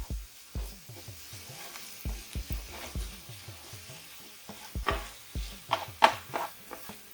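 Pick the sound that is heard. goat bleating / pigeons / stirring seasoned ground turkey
stirring seasoned ground turkey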